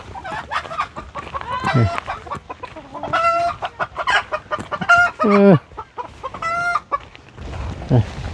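Hens cackle loudly and repeatedly at close range on a Thai farm, with rapid clucks rising into drawn-out squawks over a busy farmyard background.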